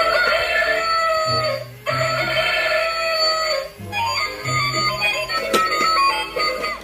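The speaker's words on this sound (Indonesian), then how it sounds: "lihat teman-teman, di sini ada ayam." Chicken clucking and crowing rings out loud and close over a bright, jingly electronic tune, repeating in bursts across the whole stretch with no talking.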